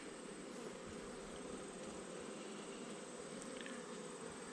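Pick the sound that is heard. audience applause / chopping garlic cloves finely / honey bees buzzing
honey bees buzzing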